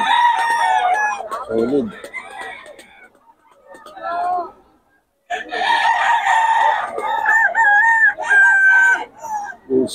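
A bull stag rooster crows loudly and close, with repeated drawn-out calls and a pause in between, while someone talks over and around the crowing.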